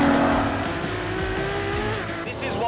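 A 950-horsepower hybrid hypercar, with electric motor and battery, accelerates hard on a track, its engine note climbing loud and close while tires squeal beneath it.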